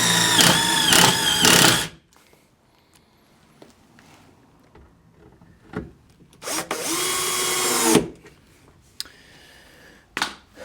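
Power drill driving screws into plywood while building a Murphy bed cabinet: two loud whining bursts close by, separated by a quiet stretch of small knocks and handling, then a short final buzz.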